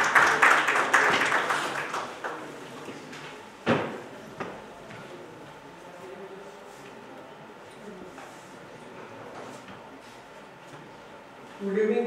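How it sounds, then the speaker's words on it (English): Audience applause welcoming a speaker at a finance seminar session, a burst of broadband clapping in the first two seconds that fades into room noise with a sharp knock or bump midway, and renewed clapping right at the end. "Let's welcome him with a round of applause."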